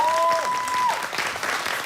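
Lively studio audience applause on a Korean health TV show as a guest walks on, dense clapping with a brief high tone at the start and some voices mixed in.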